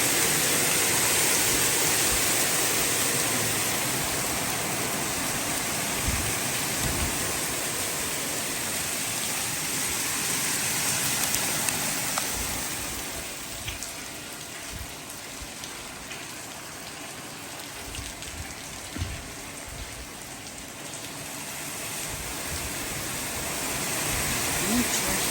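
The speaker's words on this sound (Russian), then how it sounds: "Град." Hail falls in early May as a dense, steady hiss and patter of pelting ice, continuous and fairly loud throughout, easing slightly midway before building again.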